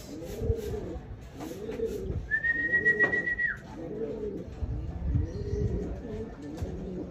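Pigeons cooing in a steady, repeating rhythm close by, low throaty calls overlapping, with a brief whistle-like tone partway through.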